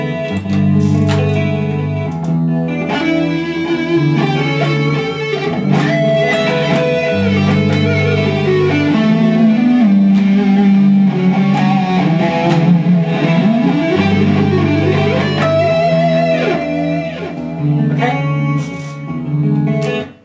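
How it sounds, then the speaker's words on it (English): Heavily distorted electric guitar through a Line 6 HD100 amp with a thick, high-gain modern tone soloing over a looped backing riff, loud and sustained before cutting off at the end. "now going to a really high gain modern distortion."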